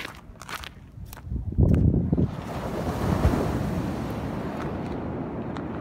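Ocean waves and wind at the beach at Gonghyeonjin, South Korea: surf rolls in with a loud wash, steady wind buffets the microphone, and a few thumps and footsteps sound close by at the start.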